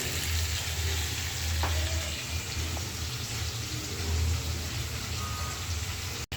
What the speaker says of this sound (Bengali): তো মাংসটা আমি একটু ভুনা ভুনার মতো রান্না করবো